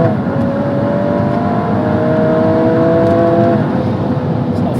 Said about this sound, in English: It's not afraid to rev, is it